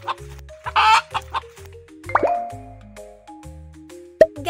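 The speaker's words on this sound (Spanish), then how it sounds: "Esta es una gallina." A hen clucks in a few short bursts mixed with plopping, dripping-like pops and a low musical backing, moderately loud and close, with no talk.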